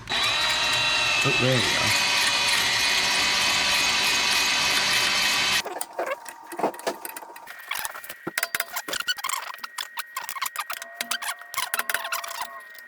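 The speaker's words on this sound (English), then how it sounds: "Only thing now to do is drill it out" A power drill bores out a broken bit while a wood splitter is being restored, a loud, continuous whine for several seconds that then drops into intermittent grinding and ratcheting bursts, with a brief spoken remark.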